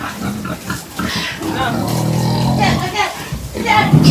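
Pig grunts and squeals at close range, heard under and between people talking in a busy setting.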